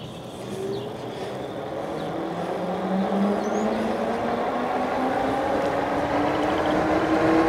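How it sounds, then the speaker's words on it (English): An electric bike with a twist throttle accelerates from a standstill, a rising motor whine climbing steadily in pitch over wind and road rumble, loud and continuous. "Now I'm gonna do the throttle test only. So let's see how fast it goes."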